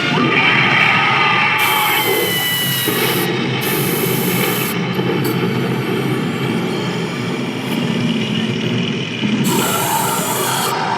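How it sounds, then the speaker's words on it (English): A Halloween trade-show prop lets out several loud, hissing blasts of spray at close range, the longest bursts at the start and near the end, against a busy hall background. "Renee just got sprayed in the face"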